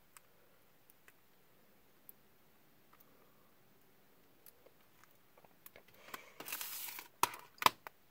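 A sealing sticker is peeled slowly from a sealed PS1 game case. Faint isolated ticks are followed by a close, short crackling tear near the end.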